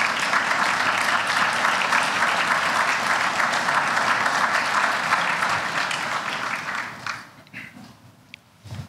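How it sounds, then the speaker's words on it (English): Graduation ceremony audience applauding in a hall, a dense sustained wash of clapping that fades out after about seven seconds. "giving our friends and your friends and family a good round of applause here"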